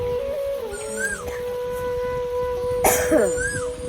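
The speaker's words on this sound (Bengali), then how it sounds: "আমার এত কাশি হয়েছে না" One short, sharp cough rings out close by against a steady background hum with faint whistling tones.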